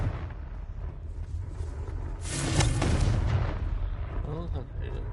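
A Confringo spell explodes in the Hogwarts Legacy video game: a loud, rumbling blast swells for about a second midway over a continuous game soundscape.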